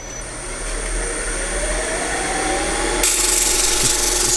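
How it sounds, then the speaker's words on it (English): A wooden box tenon is sanded while it spins on a woodturning lathe, giving a steady, close, rough rubbing hiss over the motor hum that grows brighter and louder for the last second or so. "Sand this tenon down just a little bit to make the lid easier to come on and off of it."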